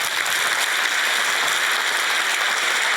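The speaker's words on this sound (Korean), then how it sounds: "하나님께 박수합시다." A church congregation applauds together during a Sunday sermon, a dense, steady wash of many hands clapping that holds at full strength for the whole stretch with no pause.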